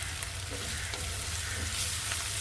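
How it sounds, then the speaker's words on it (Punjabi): Tempering for mung and masoor dal sizzling in a pan, a continuous close hiss and crackle of hot oil with light stirring. "ਦਾਲ ਨੂੰ ਤੜਕਾ ਲਾਉਂਦੀ ਸੀ"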